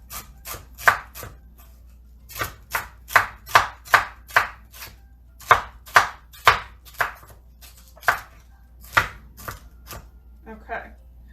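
Knife chopping celery on a cutting board in a home kitchen, a steady run of sharp, close taps in quick bursts with brief pauses, no talking.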